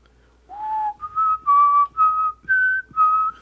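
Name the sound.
person whistling the X-Files theme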